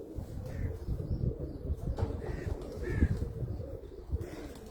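A golden pigeon with an onion-coloured eye ring on a rooftop in Muscat, Oman, coos softly in low, rolling murmurs close by, several soft calls over a rumbling background.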